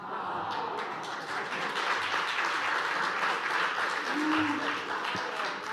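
Steady, dense applause from an audience at a Paris council meeting, filling the room evenly from start to end with no voices over it.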